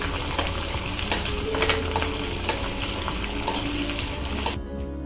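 Chillies, onion, cloves, cardamom and cinnamon frying in hot oil for a tomato fish curry, giving a loud, steady sizzle with stirring clatters throughout, then cutting off abruptly near the end.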